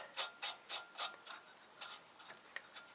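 Lug nuts being run down by hand onto the studs of a 2008 Pontiac G5 front wheel hub, a quick series of about five light metallic ratcheting clicks followed by softer scattered taps, close and fairly faint.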